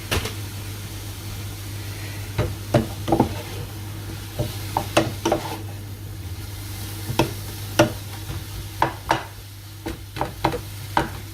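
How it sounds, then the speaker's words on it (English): Food is stirred in a pan while making a seafood pie, with a string of irregular scraping and knocking clicks from the utensil against the pan over a low steady hum. "Let's give this a stir."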